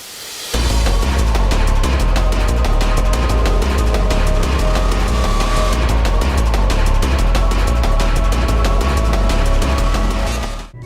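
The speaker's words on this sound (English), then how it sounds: "A very gritty synth that sounded similar to a growl that panned from side to side." A loud, gritty, growling synth built from a recorded throat noise, pulsing in a fast steady rhythm and sweeping left to right, dense and continuous after a brief quiet start.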